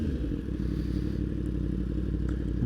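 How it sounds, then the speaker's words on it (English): A 2016 Yamaha R1 fitted with an SC Project exhaust rumbles in a deep, steady, burbling drone, moderately loud throughout, with light clattering in the mix. "that is the SC Project exhaust on a 2016 Yamaha R1."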